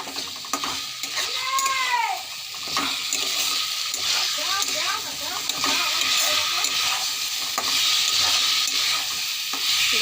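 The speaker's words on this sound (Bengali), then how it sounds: "সামান্য একটু জল দিয়ে দিলাম, জল দিয়ে আমি আরও কষাবো।" Egg masala with potatoes frying in a pan after a splash of water, a continuous loud sizzle with a spoon scraping and stirring through it, and a brief voice early on.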